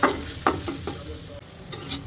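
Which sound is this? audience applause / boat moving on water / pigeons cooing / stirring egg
stirring egg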